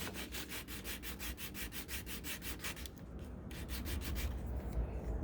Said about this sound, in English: sand this.